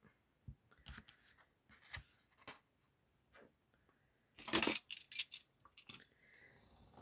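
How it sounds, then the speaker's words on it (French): Scissors snip the corners off paper squares while making a junk-style December Daily album; sharp, close cuts come in short separate bursts with one longer crunchy rustle midway, quiet overall. "je suis en train de couper les coins."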